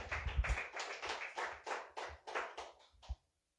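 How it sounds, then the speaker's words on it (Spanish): A church congregation claps in a quick, even rhythm, about a dozen soft beats that end abruptly. "Dele fuerte aplauso al Señor."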